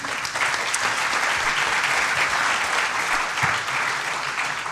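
An audience claps continuously, a dense, steady wash of applause throughout.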